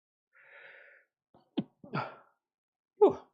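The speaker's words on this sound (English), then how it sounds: "Oh, I'm going to sneeze." A single sharp sneeze preceded by a short inhaling breath and a couple of gasps, close and fairly quiet, with no talking.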